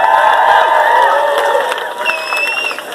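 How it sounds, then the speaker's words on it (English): An outdoor crowd at a protest for Gaza cheers and applauds a speaker, loud and close, with whoops and shouts over scattered clapping that eases off after a couple of seconds. "Give a round of applause for Sandra Yacoub"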